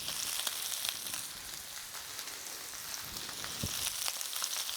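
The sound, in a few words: lettuce frying in a pan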